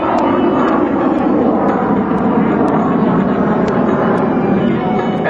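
An F/A-18C Hornet fighter jet at the NAS Oceana airshow gives a loud, continuous roar throughout, a dense, steady jet rumble with no break.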